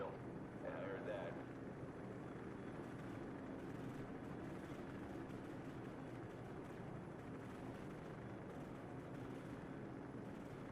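Helicopter in the video game Call of Duty 4: Modern Warfare, a steady loud rotor and engine roar filling the whole stretch beneath ongoing game dialogue and distant combat noise.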